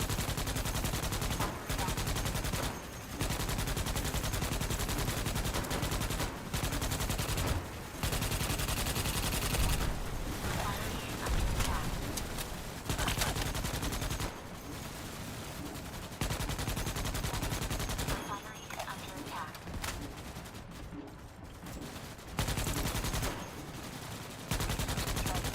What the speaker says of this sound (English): What's shooting right now?